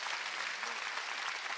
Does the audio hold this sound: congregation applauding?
yes